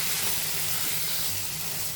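Tomatoes sizzling loudly as they hit hot oil in a pan for a simple tomato curry: a steady, close, broadband frying hiss throughout with no talk.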